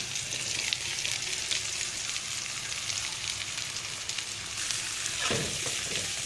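Onion and bitter gourd frying in a pan, a steady close sizzle of hot oil with crackling bursts throughout and a brief stirring scrape near the end.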